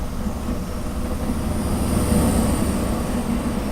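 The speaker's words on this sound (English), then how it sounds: "I love hearing the train, the sound of the train passing." A passing train in Train Simulator, a steady loud rumble of rail wagons rolling by with a faint high whine above, no talk.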